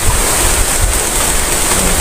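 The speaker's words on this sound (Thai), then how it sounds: "ลมเย็นสบาย" Cool wind blowing outdoors on a coffee farm, a steady loud rushing roar buffeting the microphone with no breaks and no talk.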